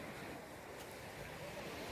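Waves wash onto a quiet beach at Diveagar or Murud on the Konkan coast, a steady, soft surf hiss mixed with light wind rumble throughout, with no voices.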